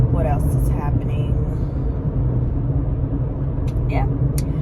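Steady low rumble of road traffic from inside a moving car during the 9 a.m. morning commute, with engine drone throughout and faint passing vehicles.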